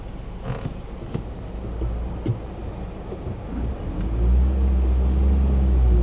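A manual-transmission car pulls away with a low cabin rumble, the engine note climbing and swelling louder as the driver moves it out of first gear.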